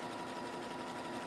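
A sewing machine running test stitches while sewing a Christmas spool garland, giving a steady, even mechanical whir throughout with no talking.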